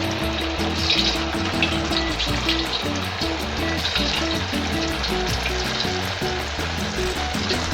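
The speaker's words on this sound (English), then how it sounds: "first you have to fry these, and you have to cut them into small pieces like so." Seitan pieces fry in hot oil with a loud, continuous, close sizzle and bubbling crackle, steady from start to finish.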